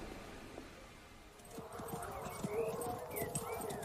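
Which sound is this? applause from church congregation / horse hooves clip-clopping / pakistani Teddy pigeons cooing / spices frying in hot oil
horse hooves clip-clopping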